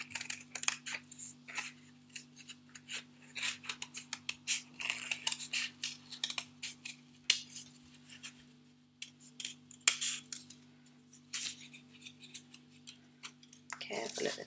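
Scissors snip through paper in many small, quick close cuts over a steady electrical hum, with brief pauses between runs of snipping.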